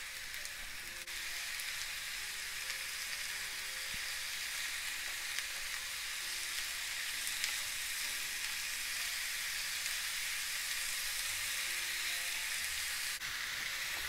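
Mushrooms added to onions already turned translucent and golden sizzle in a frying pan, a steady bright crackling hiss that continues evenly throughout, close and moderately quiet, with no talking.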